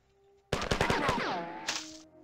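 A powerful gun in the video game Marathon fires a quick string of heavy, close shots, then gives way to a descending electronic whine.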